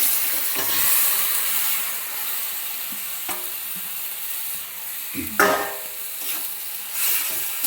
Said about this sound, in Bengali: ভালোভাবে এটা ভেজে নেব, কষিয়ে নেব।